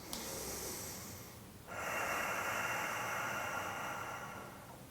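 A long, breathy exhale during a yoga class rushes out, pauses briefly, then a second stronger airy breath follows, close to the listener.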